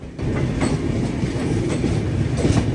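Loud, close rolling of the Durg to Visakhapatnam Express, with rhythmic clickety-clack wheel beats over a constant heavy rumble and occasional sharper rail clicks.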